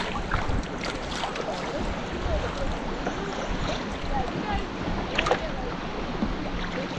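Rowing a boat on Lake Superior's Pictured Rocks shoreline: steady close wind and water wash with soft irregular splashes and knocks throughout, fairly loud and continuous with no talk.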